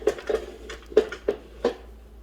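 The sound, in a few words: whisking yogurt mixture in an Instant Pot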